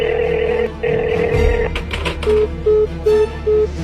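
A telephone rings with short repeated electronic tones, over a busy background and a brief clatter.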